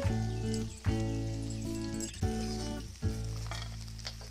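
Chopped ginger sizzling in hot oil in a pan for an Indian eggplant curry, a steady loud fry with a few sharp bursts as pieces hit the oil, over a strong tonal hum and no talking.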